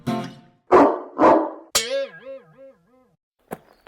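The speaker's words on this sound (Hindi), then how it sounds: "तभी अंदर से एक डरावना कुत्ता निकलकर उस पर भौंकने लगता है" A scary dog in a Chacha Chaudhary cartoon barks twice loudly and close, followed by a whining, wavering yelp and one short final bark after a pause.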